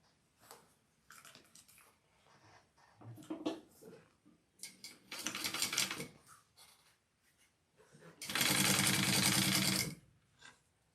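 A sewing machine top stitches a folded edge on a handbag, starting in short halting bursts and ending in one longer steady run of close, busy mechanical stitching.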